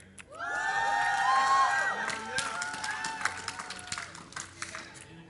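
Live crowd at an esports tournament grand final cheering and whooping loudly, a big swell of shouts that peaks early then thins into scattered yells and claps.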